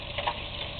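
Eight pieces of country fried steak frying in a pan, a brief soft steady sizzle with faint ticks, close and moderately quiet.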